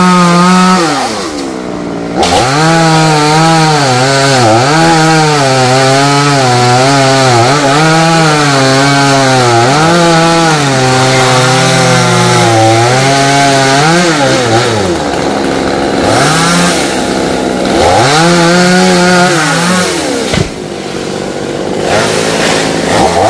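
A chainsaw cuts branches of a large rain tree, its engine roaring loud and close for the whole stretch, pitch rising and dipping as it bites into wood, with brief drops to idle between cuts.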